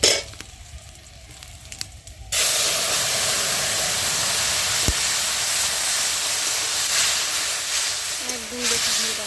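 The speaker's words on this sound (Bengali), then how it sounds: "একটুখানি হলুদে দিয়ে দিলাম তেলের উপর।" Turmeric hits hot oil with a sudden loud, steady sizzle that starts after a brief quieter moment and continues unbroken, close to the pan, as a Bengali fish curry is cooked at home.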